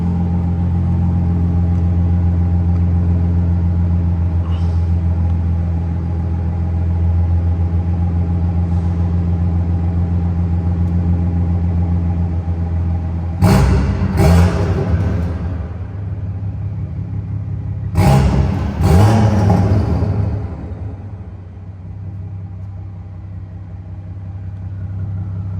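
Tuned BMW 540i M-Sport with B58 engine, stock turbo and near straight-pipe exhaust: a loud, steady idle rumble broken by two pairs of sharp throttle blips that flare and fall back, close up.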